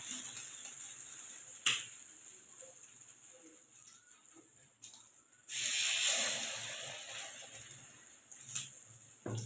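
Egg-dipped slices of bread fry in a pan, giving a soft, steady sizzling hiss that swells louder partway through as more bread goes in, with faint ticks and pops throughout.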